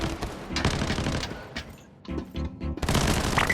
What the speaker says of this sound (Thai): เสียงปืนสั้นด้วยน่ะ